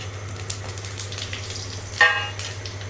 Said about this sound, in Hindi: अब इसमें हम डालते हैं तड़का।